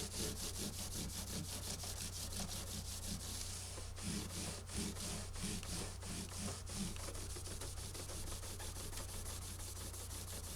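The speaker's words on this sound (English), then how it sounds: "Then I hit it with the gray Scotch-Brite." A gray Scotch-Brite pad scrubbing the finish of a koa J-200 acoustic guitar after 1000-grit sanding: a steady, close, rapid back-and-forth rasping hiss that continues without pause and with no voices.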